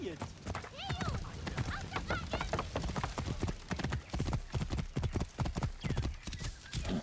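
Steady hoofbeats of a galloping war horse in Assassin's Creed: Origins pound in a fast, even rhythm, with a whinny early on and some game sounds layered over it.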